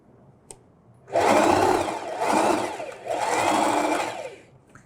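A sewing machine stitches a seam on a ruffled dish towel. After a single click it runs in three steady, close whirring bursts with brief dips between them.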